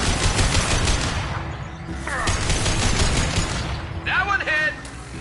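Sustained rapid gunfire from Mass Effect: Legendary Edition, loud and close, briefly pausing mid-clip, with short electronic chirps and a voice calling out over the shooting.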